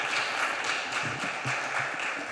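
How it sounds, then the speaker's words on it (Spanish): Applause from an audience at a healthcare conference session fills the room as a steady, moderately distant wash of clapping with no voices over it. "Le damos un aplauso, por supuesto."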